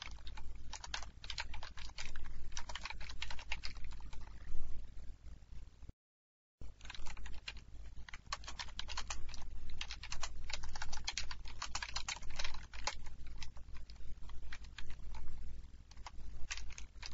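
Code typed into Visual C# .NET on a computer keyboard: a rapid, continuous patter of close key clicks with one brief silent break.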